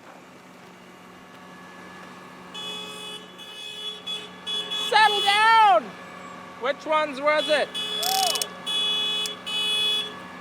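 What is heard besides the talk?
crop sprayer warning beeping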